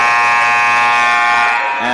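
A scoreboard buzzer sounds at a high school wrestling match between Los Banos and Pacheco, a loud, harsh continuous tone held for nearly two seconds before cutting off.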